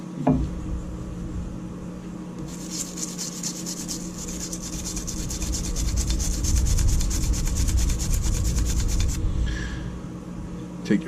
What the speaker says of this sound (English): go to our nylon brush here. I'm going to douse it in some hoppies and get to scrubbing on the inside of that